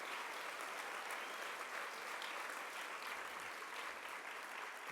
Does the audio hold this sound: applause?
yes